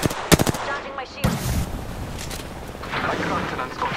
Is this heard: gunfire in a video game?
yes